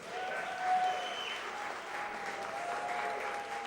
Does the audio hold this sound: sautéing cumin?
no